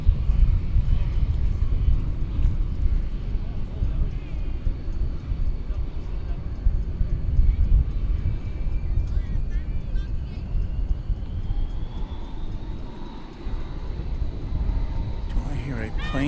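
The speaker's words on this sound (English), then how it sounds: "Do I hear a plane taking off?" An airplane taking off at DFW Airport, a steady broad engine roar and rumble sustained throughout, fairly loud at a distance, with a faint rising whine later on.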